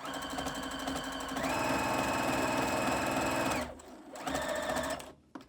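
A Juki HZL70-H sewing machine runs a blind hem stitch pattern of a few straight stitches and a zigzag, with a rapid rhythmic mechanical chatter that speeds up, cuts out briefly, then runs again before stopping.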